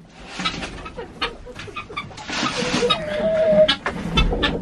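Chickens cluck and chatter inside a snowy farm coop, close and steady, with soft rustling and a few higher squawks over a quiet background.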